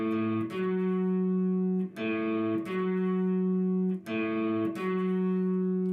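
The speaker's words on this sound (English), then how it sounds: "That's what musicians call a major sixth." Two guitar notes sound together as a major sixth interval, struck three times at a steady pace, each ringing clearly before the next strike.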